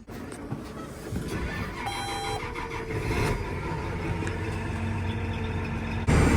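Tractor engine droning steadily while driving down a highway stretch near Monroe City, a constant mid-range rumble with road noise throughout and a brief louder surge near the end, no talking.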